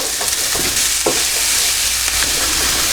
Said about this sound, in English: we're just going to fry these onions over a medium heat just until they start to soften